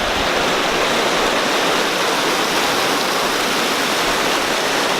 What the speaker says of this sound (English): This nice little creek.